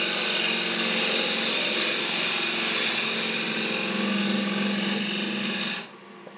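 A wood lathe turns a 12-inch fruit bowl as the tool cuts shavings, giving a steady, loud whirring scrape that holds evenly before cutting off abruptly near the end.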